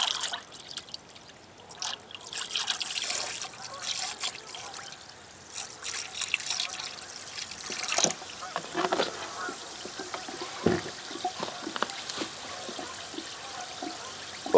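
Muriatic acid (hydrochloric acid) is poured into a plastic bucket of water holding garnet rocks, giving a trickling, fizzing wash of liquid sound with scattered splashes and clinks, close up and fairly loud.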